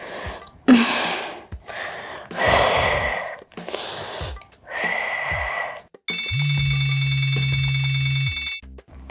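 Mobile phone ringtone for an incoming call, a steady looping electronic melody that starts about two-thirds through and plays clearly and loudly for a few seconds, after a run of heavy breathing, gasps and sighs during exercise.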